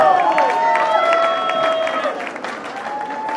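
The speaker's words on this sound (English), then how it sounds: "Come on, a round of applause for my mother" Guests applauding at a 70th birthday party, a dense round of clapping and crowd noise filling the room, with voices and tonal background music mixed in.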